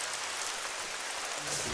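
Rain falls steadily in the hunting video game The Hunter: Call of the Wild, a soft, even hiss of drops with no talking, quiet and unbroken throughout.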